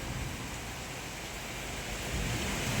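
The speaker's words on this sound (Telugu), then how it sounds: "ఏం వాన అసలు బయట పోలేకపోతున్నాం. అంత పెద్ద వాన." Heavy rain falling outside during a windy storm, a dense, continuous hiss of downpour that swells slightly toward the end, with no talking.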